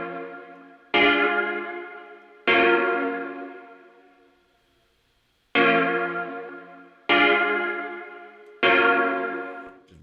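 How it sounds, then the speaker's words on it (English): A processed sample with stereo widening in Logic Pro X: five struck, bell-like harmonic tones that ring and slowly decay, the chords separated by uneven gaps, with one longer silence near the middle. "And then what I'll do is I'll turn on the stereo width thing."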